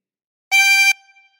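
A 24-hole tremolo harmonica blown on hole 13 sounds one sustained reedy chord for just under half a second, loud and alone, with a short ringing tail after it stops.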